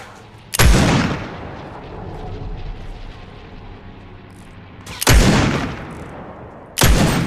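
Three loud, booming shots from a scoped revolver in a video game, each a sharp blast followed by a long, rumbling decay, the first near the start and two more spaced toward the end.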